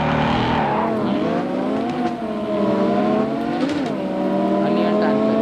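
A car engine revs steadily and loudly for the start of a race in the Drive Zone Online video game, a continuous rising and falling drone with a voice talking over it.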